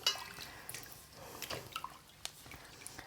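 Water drips and splashes onto a bar of soap, scattered wet taps and small squishy sounds at close range in a quiet room.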